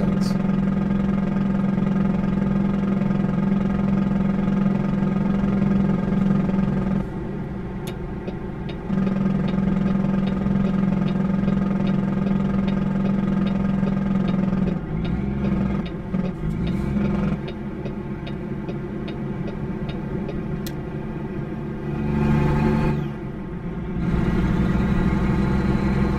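A virtual truck's engine in American Truck Simulator drones with a steady low hum, cutting out and returning several times with shifts in pitch, heard alone without talking.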